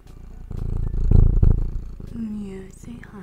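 A pet cat purrs close up in a low continuous rumble, while someone speaks to it affectionately over the purring.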